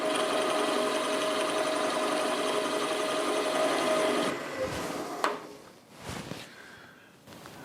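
Milling machine running at 700 rpm and cutting metal on a tool setter part, a steady whirring drone with a whine for about four seconds before it stops, followed by quieter clunks and handling noises, close by with no speech.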